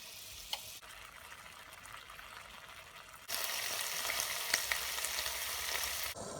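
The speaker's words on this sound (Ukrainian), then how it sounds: "Цибулю та часник я також окремо підсмажую на вершковому маслі." Onion and garlic fry in butter with a steady, close sizzle and crackle that grows noticeably louder and denser partway through.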